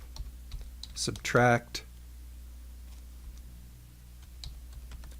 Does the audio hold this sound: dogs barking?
no